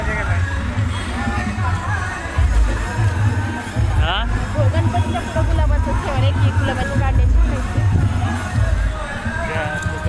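A crowd murmurs and bustles at the busy Kapaleshwar temple on Sawan Shivratri. The babble is steady and close, with nearby people talking over it.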